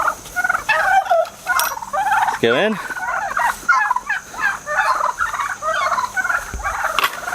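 Turkeys gobble repeatedly on a homestead flock, one of them a white turkey recovering from fowl pox, their loud rippling calls overlapping close by while a person speaks briefly.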